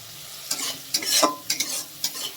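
Spice paste (masala) for a vegetarian sweet-pumpkin dhoka frying with a splash of water, a steady sizzle broken by several sharp scraping stirs of the spoon across the pan, close and clear with no talking.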